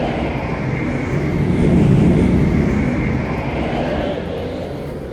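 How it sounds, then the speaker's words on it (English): An airplane passes overhead near an airport in Hokkaido, Japan, a loud, steady broadband roar that swells to a peak midway and then slowly fades, with no talking. "I'm gonna let this plane pass."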